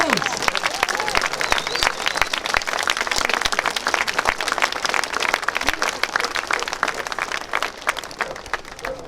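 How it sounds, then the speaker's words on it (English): Outdoor rally crowd in a town centre clapping and cheering, a thick, irregular patter of many hands close and loud, with scattered shouts and voices mixed through the applause. "Big round of applause."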